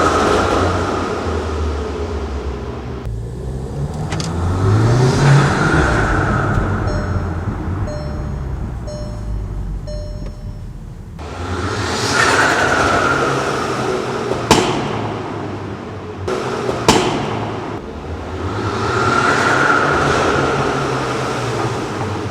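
An APR Stage 3+ Volkswagen Golf R with a high-power, small-frame EFR turbo revs in loud, rising and falling swells, with a couple of sharp pops near the end.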